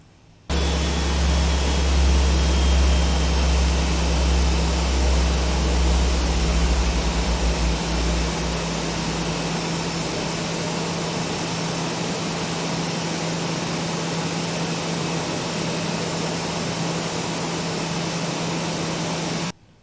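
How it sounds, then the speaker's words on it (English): Boeing 737-800 jet engines in the X-Plane 11 flight simulator spool down after cutoff. A deep rumble fades away within several seconds, while a steady cockpit hum and a thin high whine continue on evenly. "first of all, we have to do the engine cutoff"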